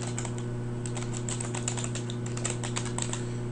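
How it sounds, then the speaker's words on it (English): Fingers tap rapidly across a computer keyboard, a quick irregular string of crisp clicks over a steady low electrical hum. "Next, between the two closing parentheses, you want to type in a comma, and then type in distribution.model."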